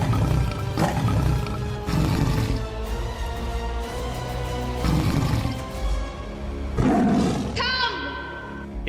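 A lion roars inside a hut in a village, several deep, loud roars spaced a few seconds apart, close and booming, with a voice talking over them throughout.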